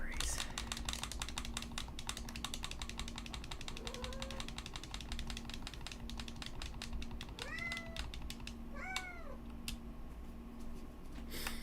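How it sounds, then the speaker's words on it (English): A cat meows several times in short rising cries, close by, over steady rapid clicking of computer keyboard typing and a faint low electronic hum. "What does the cat want from me?"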